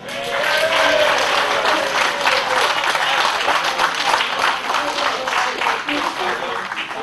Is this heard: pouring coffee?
no